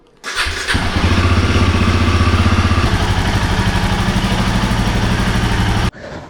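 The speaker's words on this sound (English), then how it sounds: "Let's give the engine a cold start." A Royal Enfield Himalayan motorcycle engine cranks and fires up from a cold start, then settles into a loud, steady idle with a throbbing low rumble that cuts off near the end.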